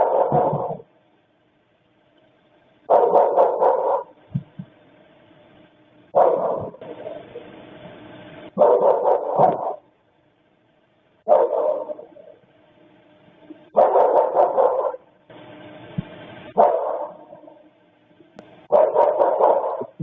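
A dog barks in repeated clusters of short, sharp woofs separated by pauses, sounding slightly muffled and resonant, as if from behind the glass of a sliding door.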